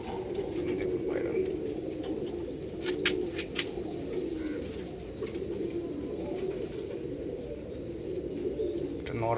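Kohinoor Golden Eyes pigeons cooing in a loft, a soft, low, continuous murmur with occasional brief chirps and faint fluttering above it. A voice speaks intermittently in the background.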